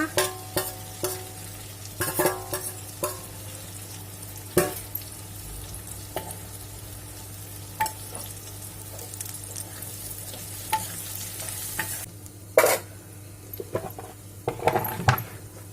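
Onions fry in a pan with a low steady sizzle while a metal spoon stirs and scrapes, giving sharp clinks and knocks against the pan at irregular intervals, close up and without talk.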